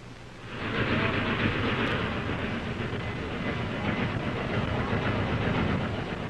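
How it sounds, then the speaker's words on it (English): Old tape recording of a train rolling into a station, a steady loud rumble with rhythmic clatter that builds in the first second and then holds. "What you're seeing now is a familiar sight, a train coming into the station. And the sound, too, is familiar."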